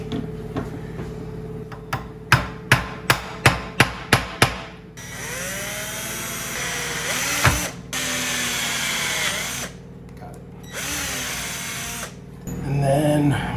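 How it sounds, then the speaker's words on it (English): Eight sharp metallic hammer taps in a quick, even series ring out close by, marking a hole in a hanging wine glass rack, followed by the whine of a power drill running in bursts. "I do want to mark it with my hammer."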